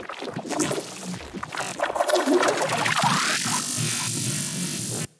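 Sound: crispy foley sounds made with the Portal plugin

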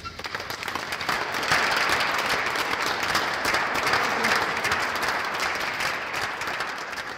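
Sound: audience applause at exhibition opening

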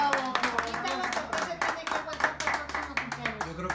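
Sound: people applauding at a birthday gathering

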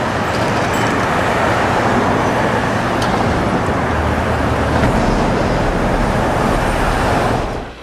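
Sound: street traffic

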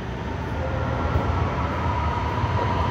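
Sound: metro train arriving at station in Shenzhen

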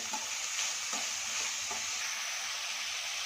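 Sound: onion and capsicum frying in a pan

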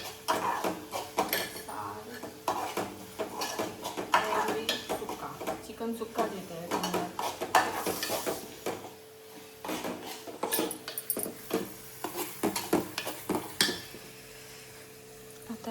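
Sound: prawns being stir-fried in a pan

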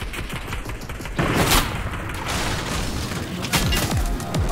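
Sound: gunfire in a video game

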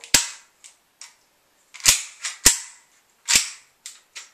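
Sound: WeTech gas blowback Glock 17 airsoft pistol firing

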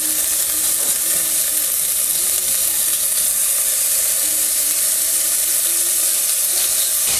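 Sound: bacon frying in a Dutch oven

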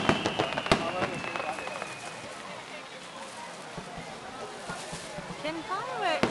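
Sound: fireworks exploding at a summer festival

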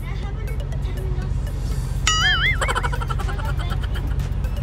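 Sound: truck engine running

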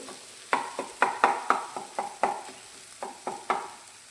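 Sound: gram flour bhurji broken into pieces while frying in pan

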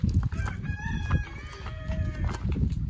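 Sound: chickens clucking

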